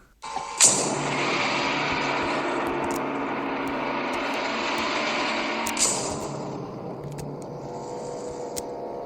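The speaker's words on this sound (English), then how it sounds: "the sound will go off, but I'm going to do it as if I'm riding that little three-wheeler that Danny's riding in The Shining" A child's small three-wheeler tricycle rolling along, recreated from The Shining as a triggered sound effect in a virtual world: a steady, fairly loud rolling rumble for about nine seconds, with a couple of sharp clicks.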